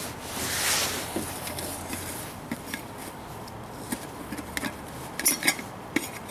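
A titanium pot and its lid are handled, giving light metallic clinks, taps and scrapes scattered unevenly across the moment, close and fairly quiet.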